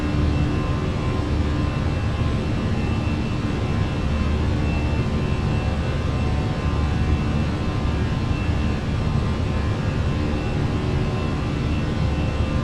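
Airbus A319 jet engines in a Fenix flight simulator, heard from the wing as a steady broadband roar with a low rumble, continuous and moderately loud, without talking.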